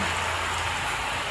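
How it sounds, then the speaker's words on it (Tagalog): Heavy rain during a storm pours down steadily, a dense, even hiss with no gaps across the short stretch, loud and close with a low rumble underneath. "lumalakas ang ulan guys"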